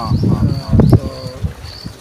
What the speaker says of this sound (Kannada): ಈಗ ಸೌಂಡ್ ಕೇಳಿಸ್ದಂಗೆ ಬೆಳಗ್ಗೆಯಿಂದ ರಾತ್ರಿವರೆಗೂ ಪಕ್ಷಿ ಶಬ್ದ ಕೇಳಿಸ್ತಾನೆ ಇರುತ್ತೆ